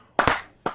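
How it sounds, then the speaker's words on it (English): A few slow, deliberate hand claps, spaced apart, close and fairly loud with a quiet gap between them. "She gets the slow clap."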